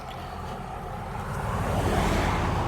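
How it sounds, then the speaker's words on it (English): Truck passing on the road, a broad rushing roar that swells louder toward the end, heard alone with wind-like noise. "There's a truck coming towards me."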